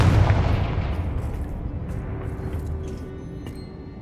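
Confringo fire spells blasting and exploding in the Hogwarts Legacy video game, a heavy booming burst at the start that rolls off into a long rumbling decay with faint crackles.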